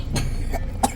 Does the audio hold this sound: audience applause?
no